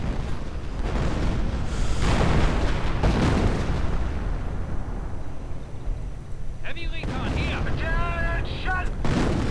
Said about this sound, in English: I believe it is called the God of War ability, which was the nickname for the Soviet artillery divisions